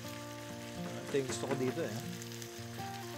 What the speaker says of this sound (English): haluin natin yung pork natin. Tama, lumalabas na yung oil.